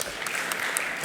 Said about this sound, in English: Give him a hand of applause again.